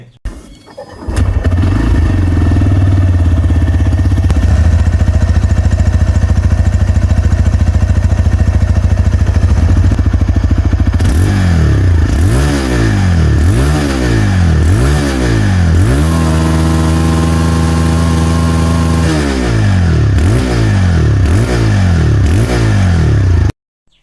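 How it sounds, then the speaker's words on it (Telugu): A TVS Raider 125 IGO motorcycle idles with a steady low exhaust burble, then is revved repeatedly in a series of rising and falling bursts, followed by a sustained higher hold before dropping back and cutting off; loud and close. "ఇంకా ఈ బైక్ ఎగ్జాస్ట్ సౌండ్ వినటానికి కూడా బాగుంటుంది."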